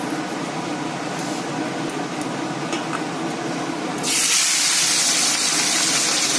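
Fish goes into hot mustard oil in a wok: a soft background hiss suddenly jumps to a loud, bright, continuous sizzle partway through and holds to the end.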